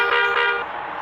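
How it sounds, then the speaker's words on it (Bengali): A bus horn sounds in the Bus Simulator Indonesia driving game, a single steady loud honk about a second long that fades slightly at the end. "এই যে একটু হর্ন দিলেই ওরা সরে যাবে"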